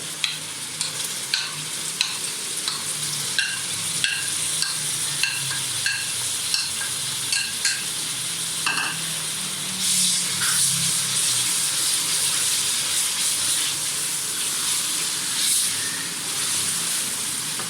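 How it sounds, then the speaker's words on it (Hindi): Tomatoes and spices fry in a pan for a fish-head and potato curry, giving a steady, close sizzle with regular light scraping and stirring knocks throughout, and no voices. "अब इसको मैं थोड़ा सा इसमें भूनूंगी ताकि ये थोड़ा सा इसका कच्चापन दूर हो जाए"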